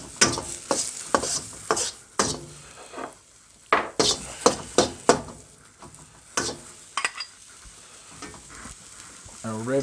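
Onion stir-frying in a wok for fried rice, with a utensil scraping and tossing in repeated bursts over a steady sizzle, close and fairly loud, ending with a few rapid metallic clatters.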